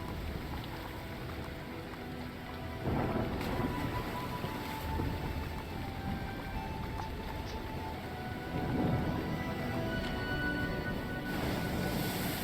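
An unnatural storm at sea in Lord of the Rings Online, near the ship Wave Hunter: steady rushing rain and wind with low rolling rumbles swelling twice, no talk.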